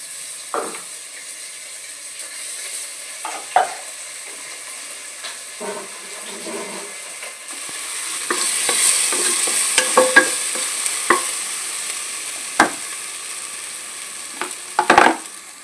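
Ginger garlic paste frying with onions in a pan, a steady soft sizzle broken by scattered spoon scrapes and knocks that grow busier and louder in the second half.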